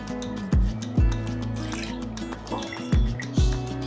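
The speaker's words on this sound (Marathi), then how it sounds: "हाताने करते मी म्हणजे आपल्याला अंदाज येतो गुठळ्या वगैरे आहेत का ते समजतं" Wet squelching and dripping as a thick gram flour batter is mixed by hand, with a few sharp plops and slaps at irregular intervals.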